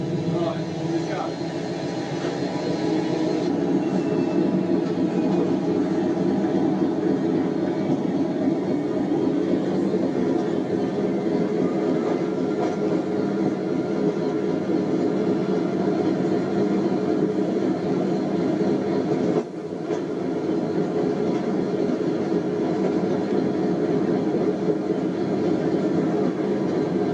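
A train pulls out on a run from Hoo Junction toward Willesden, heard as a steady, loud low rumble and rattle that carries on without a break, with a brief dip in the noise partway through.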